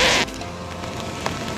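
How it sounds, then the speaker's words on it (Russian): Heavy downpour of rain in a forest, a steady dense hiss of falling water that stays even throughout, with a brighter burst at the very start. "Посмотрите, какой ливень, послушайте."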